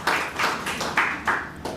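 An audience at an open mic poetry event claps together in a loud, continuous burst of applause with rhythmic swells, close and filling the room.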